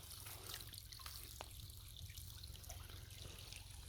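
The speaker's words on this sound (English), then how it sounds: "Little stream" Steady trickling water with faint splashes and drips, continuous throughout like a small stream flowing nearby.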